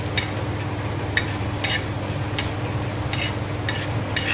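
Spice masala and coconut roasting in oil in a pan over low gas for Botvada curry, giving a steady soft sizzle with periodic scraping strokes of a spoon stirring through the mixture.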